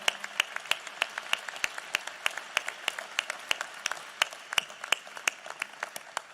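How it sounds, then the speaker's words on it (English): Audience applause at a National Space Council gathering in the Udvar-Hazy Center, Chantilly, Virginia: a modest, steady run of crisp individual claps from a small crowd, fairly even in rhythm, with sharp peaks over a softer background. "I think they all deserve a big round of applause."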